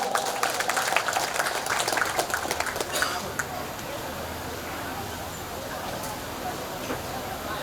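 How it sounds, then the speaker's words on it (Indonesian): Applause from an audience at an Islamic religious gathering and graduation in Bangka, dense and lively for about three seconds before fading into a steady crowd murmur and room noise. "Tepuk tangan untuk beliau."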